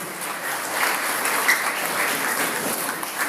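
An audience at a nasyid singing competition applauds steadily for a few seconds, a dense wash of clapping at even loudness.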